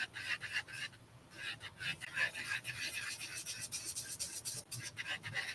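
Builder gel nail surface being buffed with a hand buffer, giving a soft, close, repeated scratchy rubbing of quick back-and-forth strokes, steady and faint throughout with no talk.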